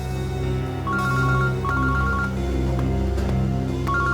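Telephone ringing in short repeated trilling bursts, moderately loud, over a steady background music bed in a crime drama scene.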